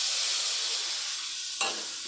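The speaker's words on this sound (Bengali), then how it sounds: "বেশি ভাজবো না, একটুই ভাজবো" Spices sizzling steadily in oil in a pan, a soft continuous frying hiss with a brief stirring scrape near the end, close by with no talking.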